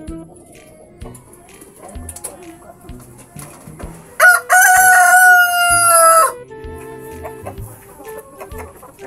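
A bantam rooster gives one loud, close crow lasting about two seconds, with scattered clucks and soft farmyard noises before and after.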